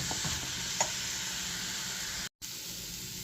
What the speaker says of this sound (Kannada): ಈಗ ಸ್ವಲ್ಪ ಒಳ್ಳೆ ಮಾಡಿ ಹುರಿತೇನೆ.